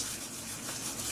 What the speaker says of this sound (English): So now I'm going to add the kasuri methi. Just crush it a little bit between your hands